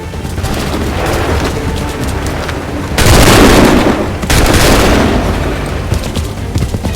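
Musket volleys in Assassin's Creed III crack out as dense, booming bursts of massed gunfire over a rumbling battlefield din. The loudest volley erupts around midway, with another close behind.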